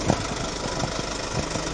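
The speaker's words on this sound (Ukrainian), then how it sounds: "Заглушіть мотор, будь ласка" A car engine idles at a border checkpoint with a steady close rumble and soft irregular knocks, running alone with no talk over it.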